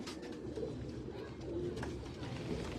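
Breeder pigeons kept in a loft in Faisalabad coo softly and repeatedly against a dense low rumble of background noise, the birds close by and fairly faint.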